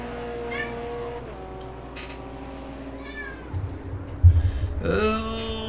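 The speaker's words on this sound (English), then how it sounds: "My cat would like to say hello." A pet cat meows a couple of times close by near the end, over a steady background hum from a racing game.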